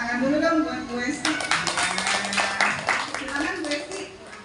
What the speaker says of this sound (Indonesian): Tepuk tangan dulu dong buat Bu Esti.